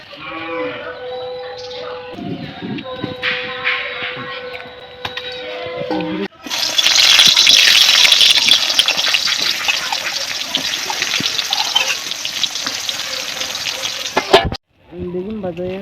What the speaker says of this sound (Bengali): আমি বেগুন ভাজা দিয়ে দিলাম